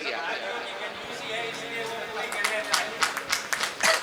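A few scattered hand claps break out near the end of a devotional kirtan gathering, sharp and uneven over sustained music tones and murmuring voices.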